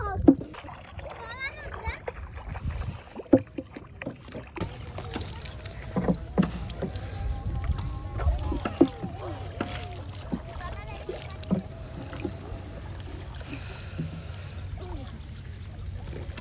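A small boat is rowed through a village wetland where water lilies grow. Oars splash and slosh repeatedly close by while children and adults chatter throughout.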